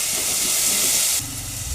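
Water poured into hot spiced oil tempering with cumin and goda masala, a loud close hiss that cuts down abruptly to a softer bubbling simmer partway through, with no talking.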